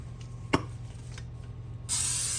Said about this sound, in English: I am going to spray it with some Pam spray.